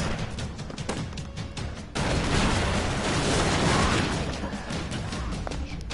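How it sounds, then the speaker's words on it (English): Loud booming blasts and crackling bursts of gunfire pile up in the video game Broforce, followed by a long rolling rumble of explosions. "Explosions."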